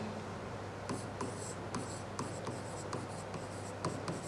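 Pen or chalk writing out a Latin verb conjugation, a string of short scratchy strokes in uneven rhythm over a steady low background hiss, with no talking.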